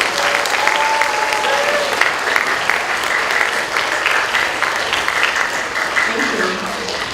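Audience applause at a school Halloween informance, steady dense clapping from a seated crowd sustained at even loudness throughout, with faint voices mixed in.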